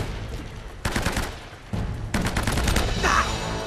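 Bursts of gunfire ring out in Uncharted: Drake's Fortune, several rapid volleys of shots in quick succession, moderately loud with short pauses between them.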